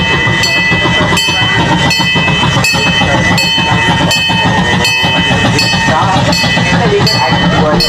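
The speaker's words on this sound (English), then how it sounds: "I can see the trains now arriving in the station." A zoo ride train arrives at its station at night, loud and close with rhythmic clickety-clack, metallic screeching tones and rumbling, while people talk in the background.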